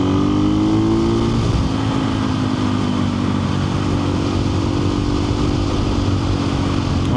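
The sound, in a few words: KTM 500 EXC-F motorcycle accelerating through gears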